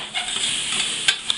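Oyster mushrooms for a Cajun cream sauce are stirred around in a hot frying pan, giving a steady close sizzle broken by a few sharp scraping strokes.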